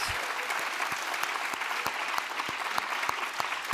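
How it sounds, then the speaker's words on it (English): A conference audience at a closing session claps for Patricia, a steady round of applause with crisp individual claps standing out near the front, sustained throughout without voices. "So really big round of applause for Patricia, please."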